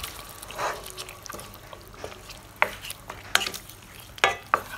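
A spoon stirs yogurt into simmering chicken nihari in a pot, giving soft scraping and gentle liquid sizzling with a few sharper clinks against the pan, close and with no talking.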